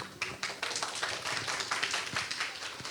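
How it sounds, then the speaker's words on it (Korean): Scattered applause from a seminar audience at a low-carb diet talk, a steady patter of hand claps with uneven rhythm, moderately distant and fairly soft throughout. "박수 부탁드립니다."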